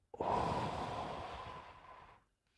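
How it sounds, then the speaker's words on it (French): One long, deep breath, drawn in sharply and then released slowly for about two seconds, close to the microphone and breathy, ending in near silence. "Une respiration."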